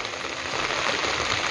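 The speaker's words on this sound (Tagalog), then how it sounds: "Maulaning araw ngayon mga ka-sisters." Steady rain on a rainy day in a rural Filipino cooking setting, a dense, even hiss of falling drops with no voices.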